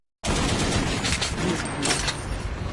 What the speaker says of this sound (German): Jetzt schießt auf die Attrappe mit Rücken.